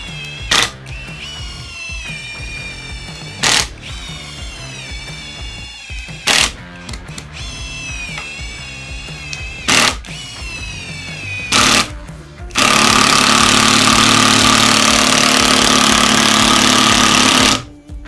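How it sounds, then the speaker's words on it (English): Hercules brushless lithium-ion impact driver driving 6 3/8-inch deck screws: a steady whirring motor broken by short bursts, ending in a loud, sustained rapid hammering rattle for about five seconds before it stops. "I am testing with these 6 3/8 deck screws. Hercules brushless impact lithium ion battery."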